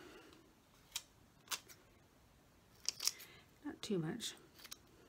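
Scissors snip paper for a Christmas craft journal, a few sharp close cuts spaced out over several seconds, with soft speech in between.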